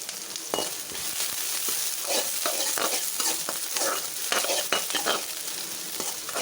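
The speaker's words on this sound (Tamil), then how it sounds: "ஆயில் போட்டாச்சா ஸோ ஆனியன் லைட்டாக ஃப்ரை ஆகுது ஸோ கொஞ்சோண்டு கருவேப்பிலை" Onion and curry leaves frying in oil in a home kitchen pan, a dense crackling sizzle up close with frequent spatula scrapes and stirring clatter throughout, no voices.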